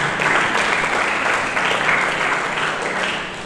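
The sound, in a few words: audience applause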